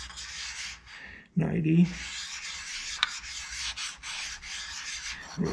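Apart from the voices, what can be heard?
lapping steel on a lapping plate with lapping compound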